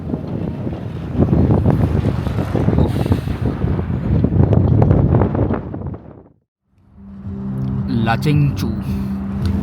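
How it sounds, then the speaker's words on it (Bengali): Strong gusting wind buffets the microphone in a broad high-altitude valley of North Sikkim near Gurudongmar, a steady roar that drops out briefly before returning, with a voice and a nearby rushing river faintly beneath. "এখানে আবার গুরুদঙ্গমার থেকেও বেশি হাওয়া গো,"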